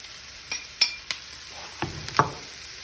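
Meat sizzles in a hot pan over a low steady frying hiss, broken by several sharp clinks and scrapes as it is stirred, close and clear with no talking.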